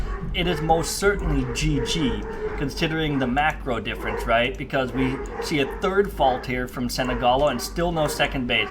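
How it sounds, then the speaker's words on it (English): Dogs barking and yipping upstairs, excited and agitated, with repeated barks and whimpers heard beneath a man's continuous speech. "I apologize if you guys can hear my dogs barking upstairs."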